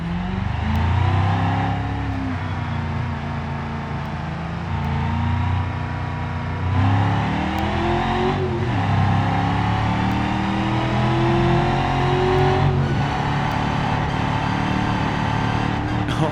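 A BeamNG video game truck engine revs and drones continuously, pitch rising and falling with gear shifts, loud and close with no talking.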